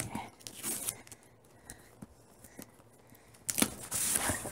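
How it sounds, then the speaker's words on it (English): A mail package being torn and ripped open with keys: scattered scraping clicks, then a louder burst of tearing and crinkling near the end, close up. "So I'm just gonna open this with my keys"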